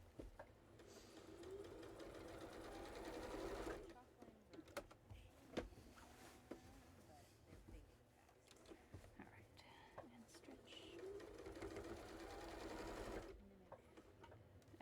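A sewing machine quilts in the ditch on a quilt in a school bus, running in steady loud bursts with a short pause in the middle while a voice talks over the stitching.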